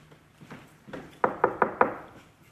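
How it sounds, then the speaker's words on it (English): Four sharp knocks on a laundry room door, evenly spaced and fairly close, following a few softer taps, with no voices. "Soon there was a knock on the laundry room door."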